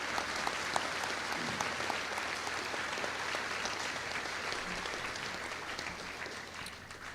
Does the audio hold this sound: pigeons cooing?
no